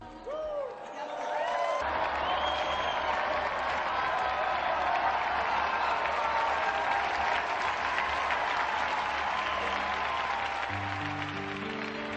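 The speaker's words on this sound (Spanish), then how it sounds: "brindemos nuestro aplauso sincero a los beatos Jacinta y Francisco" Sustained audience applause at a religious gathering honoring the blessed Jacinta and Francisco of Fátima, a dense, steady roar of clapping that swells in quickly and holds loud for the whole stretch, with a low musical drone underneath.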